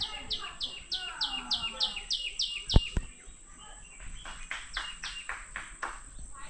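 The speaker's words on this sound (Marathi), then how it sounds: "असं संध्याकाळचं शांत वातावरणात पक्ष्यांचा किलबिलाट एकदम शांत वाटतं" Evening birds chirp repeatedly in quick, rising series against a quiet background with faint insect trilling; a couple of sharp knocks occur midway.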